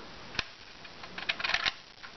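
The small bolt of a Crosman 760 Pumpmaster BB gun drawn back, a single sharp metallic click followed by a quick cluster of ratcheting clicks and scrapes, close and fairly quiet, with no talking.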